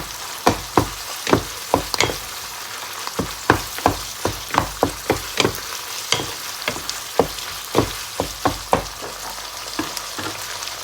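Minced meat and eggplant stir-fried in a pan, a loud sizzle under a rhythmic run of sharp spatula scrapes and clacks striking roughly every half second, with no talk.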